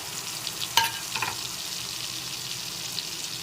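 Spice paste with turmeric sizzles steadily in hot oil while being fried down for a rohu fish curry with potato and pointed gourd, with a couple of brief utensil clinks against the pan.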